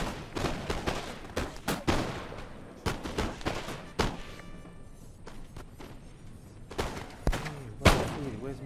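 Musket volleys crackle and thump in the Napoleonic-era battle game Napoleon: Total War, with repeated scattered shots and rolling fusillades at mid distance, sometimes under a voice speaking.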